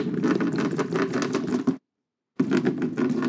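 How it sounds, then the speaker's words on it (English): Degreaser liquid sloshed into the bottom of an old woodworking bench vise, a steady wet splashing and trickling that stops briefly and then resumes, close and fairly loud with no talking. "So I'm just going to slosh a bit of this into the bottom there."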